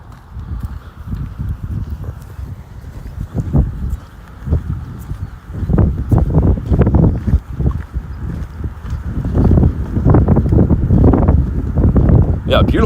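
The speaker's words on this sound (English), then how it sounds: "definitely a lot windier than I thought" Strong wind buffets the microphone outdoors on a bright day, a continuous low rumbling roar that rises and falls in gusts and swells louder in the second half.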